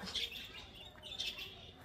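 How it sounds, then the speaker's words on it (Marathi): A sparrow chirping outdoors, a few short, bright high-pitched tweets in quick succession, moderately near and fairly faint against light background noise, with no talk. "चिमणी, चिमणी बोले चिऊ."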